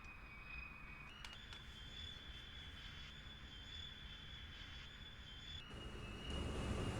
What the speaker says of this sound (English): Another wave of planes coming in.